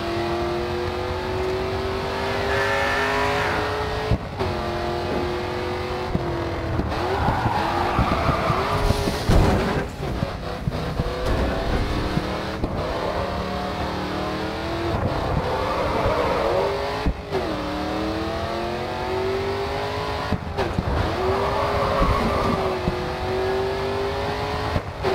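Race car engine in GRID 2 revving hard and shifting pitch as the car slides, with tire squeal and skidding under near-continuous loud engine drone, rising and falling through repeated acceleration bursts.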